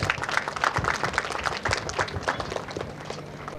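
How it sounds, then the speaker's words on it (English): Round of applause from a school audience at a high school career fair, dense clapping that holds steady for several seconds and then thins slightly, heard from a middle distance in a hall. "Please give them a big round of applause."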